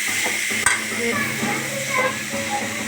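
Food with coriander and garam masala sizzling in a pan while being stirred and mixed, a steady hiss broken by scraping strokes and one sharp knock, close by.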